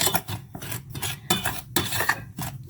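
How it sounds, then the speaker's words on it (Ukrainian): A spoon scrapes and rasps around a bowl of sugar and cocoa in repeated strokes, a dry gritty stirring with short pauses between passes, close by and with no voices. "розмішую їх."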